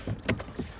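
A rowing boat pulled through water in a few uneven strokes, each giving a soft splash and knock of oars, close and faint, with light wind across the microphone.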